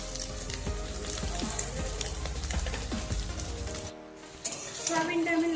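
Soybean chunks seasoned with salt and turmeric fry in hot oil with a dense, crackling sizzle. The sizzle drops away briefly near the end and then returns.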